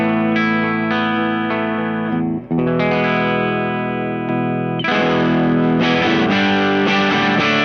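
An electric guitar on its wide-range humbucker bridge pickup plays through a PastFX 18V Power Booster pedal: loud, ringing strummed chords with a lightly driven edge-of-breakup tone and a brief gap between chord changes.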